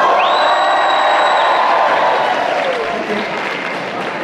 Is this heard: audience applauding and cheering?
yes